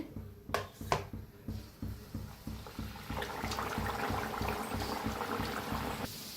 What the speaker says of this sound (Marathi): साईडला तेल बी ठेवलेलं आहे आणि इथं 5 लाटून घेतलेले आहेत मी. तळून दाखवते.